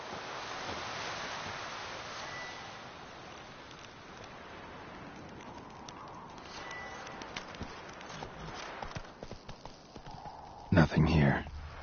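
Roach the horse's hooves pound in a rhythmic gallop within a video game, steady over a wash of wind and surf-like ambience, with a loud burst near the end; a voice speaks over it.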